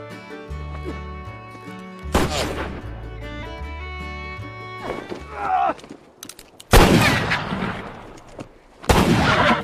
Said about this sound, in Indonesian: Cockburn yang tidak terima lantas menantang LaBeouf adu tembak sasaran yang dilempar ke udara